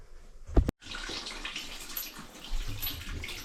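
Water gushing from a tap during plumbing work on a bathroom fitting, a loud steady rush after a brief thump, continuing close and unbroken.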